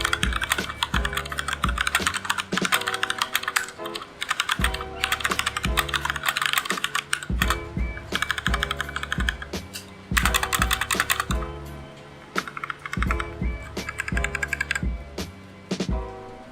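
Rantopad MXX mechanical keyboard being typed on, a rapid, loud stream of crisp clacking keystrokes in bursts with brief pauses and a few heavier thocks, close and alone without any voice.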